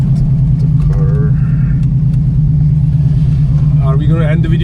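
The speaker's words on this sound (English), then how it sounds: "Let's park the car." A car engine idles with a loud, steady low drone while being parked, with people talking briefly over the constant rumble.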